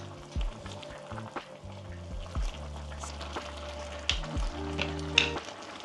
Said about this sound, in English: Mix, mix, mix. Keep stirring them.